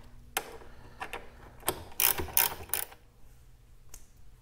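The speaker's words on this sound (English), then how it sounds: "We're also going to remove this 12 millimeter bolt here that holds the crash bar on." Ratchet loosening a 12 mm crash bar bolt on a 2018 Honda Goldwing, a few quick bursts of clicking close by in a quiet garage, short and uneven, without speech.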